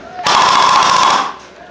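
Rapid automatic gunfire in a shooter video game bursts out loud and dense for about a second, a fast rattling stream of shots that then fades away.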